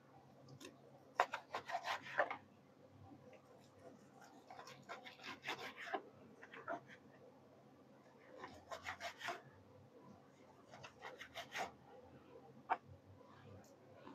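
A knife slicing beef thinly on a cutting board for a soy sauce beef dish, repeated bursts of rasping strokes in quick groups with short pauses between them, close and fairly quiet.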